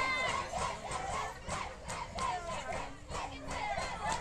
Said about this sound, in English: Everybody is at a fence, cheering, screaming, banging, encouraging.